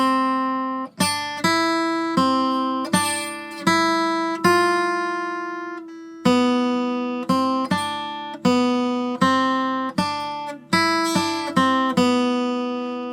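Fingerstyle acoustic guitar plays the melody of a tune alone, clear plucked notes with a steady rhythm and ringing sustain, up close and loud with no talking.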